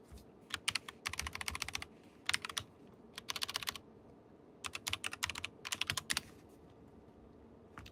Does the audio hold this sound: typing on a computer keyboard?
yes